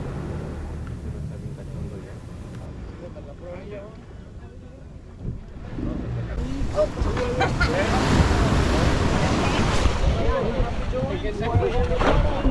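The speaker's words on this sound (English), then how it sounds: "Timing the waves." Ocean waves surging and breaking on a beach at Yelapa as passengers get off a boat, a building roar of surf with wind buffeting the microphone and voices talking.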